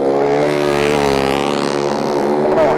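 Grasstrack racing motorcycle with a megaphone exhaust, its engine blaring loud and close in a sustained rising-and-falling whine, alone without voices.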